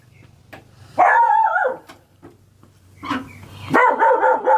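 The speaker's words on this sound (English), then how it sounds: "How that dog come back home there?" A dog barks in two short loud bursts, separated by a quiet gap with faint rustling, close to the microphone, with no speech over it.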